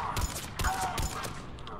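Gunfire in Mass Effect during combat on Eden Prime: a quick series of four or five sharp shots at even spacing, close and moderately loud, with faint game effects around them.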